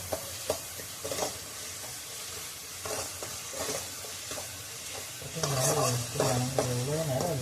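Tomatoes frying in a pan while being stirred, giving a steady close sizzle broken by repeated scraping strokes, with the stirring growing louder and busier toward the end.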